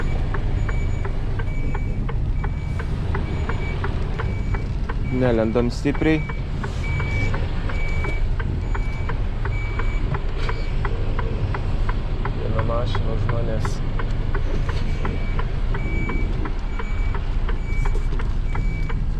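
A vehicle reverses onto a main road, its reversing alarm giving a steady run of evenly spaced beeps over a constant engine and traffic rumble, with someone talking throughout.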